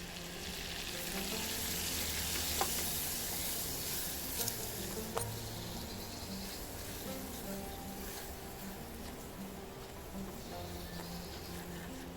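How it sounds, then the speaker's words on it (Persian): White flour toasts in melted butter for a béchamel sauce, giving a steady, even sizzling hiss for the whole stretch. It is broken by a few faint clicks of a utensil against the pan. "2 قاشق غذاخوری آرد سفید اضافه کنید و تفت بدید."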